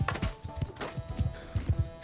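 Horse hooves clip-clop at a steady trot in Mount and Blade 2 Bannerlord, a close, rhythmic run of hollow thuds over a faint ambient hum.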